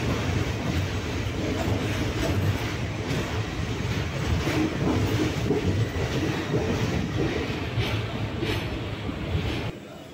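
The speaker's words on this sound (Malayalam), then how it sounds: "ഇത് നമ്മുടെ കൊച്ചുവേളിയിൽ നിന്ന് നാഗർകോവിൽ പോകുന്ന വണ്ടിയാണ്." A passenger train from Kochuveli to Nagercoil rolls past close by, a loud continuous rumble and clatter of wheels on rails that holds steady before easing off at the very end, with no talking.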